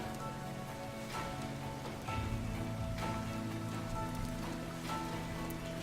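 Steady rain falls across a farm in the Farmer's Dynasty video game, a dense continuous patter with scattered drops, joined midway by a low droning hum, with no voices.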